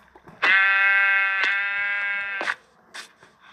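A single long, nasal bleat of a Minecraft sheep, held for about two seconds, followed by a couple of short, quieter blips.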